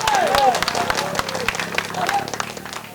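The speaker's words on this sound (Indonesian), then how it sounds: "Tepuk tangan untuk Limbur" An audience at a gathering in Bungo, Jambi claps for Limbur in a brief, moderately loud burst of applause, with voices and a speaker talking over it.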